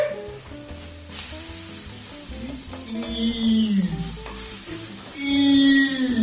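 A burger frying in a pan gives a steady sizzle with some stirring and scraping, heard under background music and kitchen noise.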